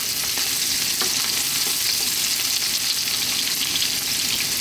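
Onion frying with ginger in oil in a very hot pan, a loud, continuous sizzle with a rustle of stirring and scattered light clicks of the utensil against the pan.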